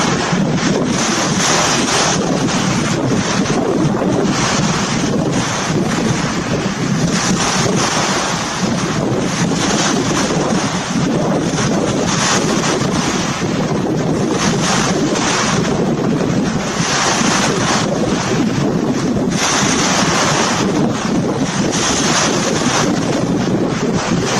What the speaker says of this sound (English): it's very windy right now, so I don't even know if you can hear me well